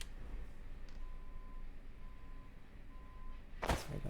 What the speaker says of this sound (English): Sorry about those loud trucks out there.